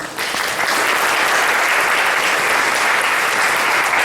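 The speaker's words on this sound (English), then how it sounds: "Another round of applause to Prashant's brother and his friends." Sustained audience applause at a South Asian community forum fills the room, dense and steady from start to finish with no pauses.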